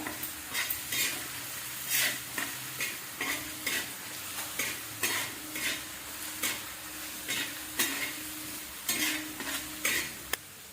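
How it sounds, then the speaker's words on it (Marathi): Sautéing dill leaf bhaji in a pan, with a spoon scraping and stirring in regular strokes over a soft continuous sizzle, close and clear with no talking. "परतून घ्यायचं जरा"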